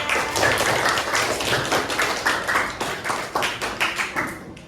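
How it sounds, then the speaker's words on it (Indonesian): A sixth-grade class claps for a group of students, a brisk patter of many hands through nearly five seconds that thins and slows toward the end, with no speech. "Beri tepuk tangan buat kelompok yang aman ya."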